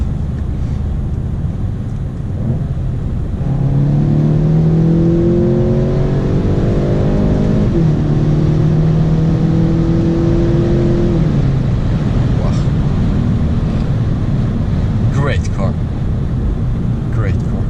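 A 2018 Volkswagen Golf GTI DSG MK7.5 engine pulling hard, its drone climbing in pitch, dipping at a quick gear change and climbing again, heard from inside the car over steady road noise.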